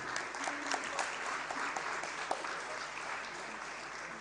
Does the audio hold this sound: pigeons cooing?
no